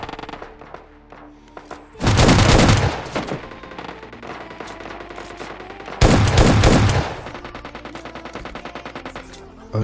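An SK-12 shotgun fires in a battle royale video game during a solo-versus-squad fight, two heavy, loud bursts of gunfire about four seconds apart, each ringing out over quieter game sounds and rapid clicking footsteps.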